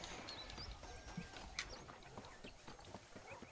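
Horse hooves clop faintly and irregularly on the ground in Red Dead Redemption, soft and somewhat distant, mixed with light ambient chirps and background noise.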